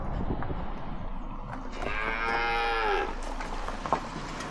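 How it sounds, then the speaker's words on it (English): A Holstein cow on a demonstration farm lets out one long, drawn-out moo in the middle, set against steady outdoor background noise and faint farm sounds. "Here we have a Holstein"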